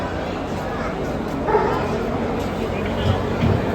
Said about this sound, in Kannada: ಇದು ಡಾಬರ್ ಮ್ಯಾನ್ ಬ್ರೀಡ್ ನೋಡ್ರಪ್ಪ